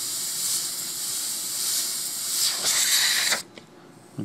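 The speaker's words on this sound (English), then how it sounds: "I see my airbrush spitting up, so I'm going to clear it" An airbrush spits and hisses as air and paint sputter out, a steady loud hiss rising to a sputtering burst before cutting off abruptly, followed by a faint tap.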